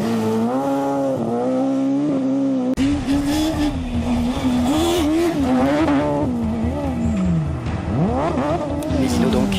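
A BMW rally car in the F2000 group at the 2014 French rally cup final near La Rochelle, its engine loud and close, revving up and down through gear changes before a sweeping pitch drop as it passes, with a commentator talking over it.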